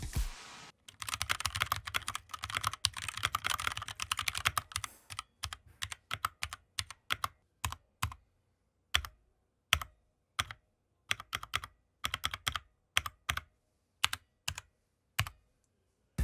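Typing on a Blitzwolf BW-KB1 mechanical keyboard with brown switches. Fast, dense keystrokes come first and thin out into slower, evenly spaced single clacks, crisp and close with no talking.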